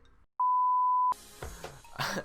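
A mobile phone gives one steady electronic beep, clear and close, lasting under a second in a quiet room, followed by a person speaking.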